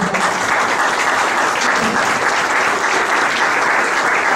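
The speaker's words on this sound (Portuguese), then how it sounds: "Vamos a darle un aplauso de bienvenida" A church congregation claps in welcome for a visiting apostle, a dense, steady wash of applause filling the room without a break, loud and close, with no talking over it.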